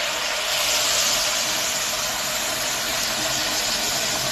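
Water poured into a hot pan of rice and cumin gives off a loud, continuous hissing sizzle that stays close and steady throughout.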